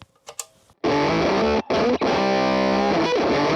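An electric guitar runs through the Motor synth pedal, first a few faint plucked notes, then a sudden loud, buzzing, heavily distorted synth-like tone that sustains with two brief drops before continuing.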